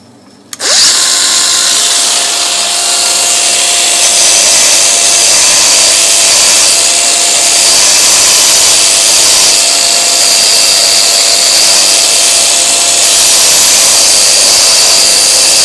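An old bolt is power sanded with 240 grit. A loud, steady high-pitched whine starts abruptly and runs without a break for about fifteen seconds.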